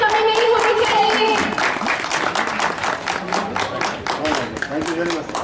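Steady audience applause at a society picnic and annual general meeting, a dense crowd clapping continuously and loudly throughout, with voices mixed in underneath.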